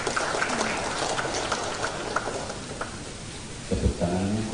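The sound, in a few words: applause at an official inauguration ceremony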